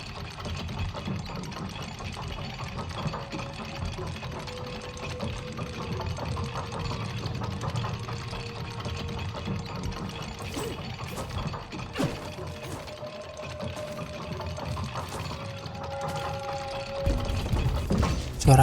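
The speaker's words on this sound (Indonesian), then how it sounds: "Kita akan turun ke lift ini teman-teman." Elevator descending in the video game Itorah, a continuous mechanical rumble with grinding, ratcheting clatter and occasional clanks under a faint musical drone, ending in a louder thud.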